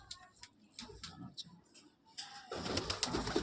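A pet pigeon gives soft, repeated coos up close among faint ticking noises, and then a louder burst of broadband rustling, like wing flaps or handling, fills the last second.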